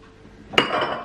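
Dishes and cutlery clatter in a single close, bright clink as they are put away in a kitchen after the dishwasher has been emptied, with no talking.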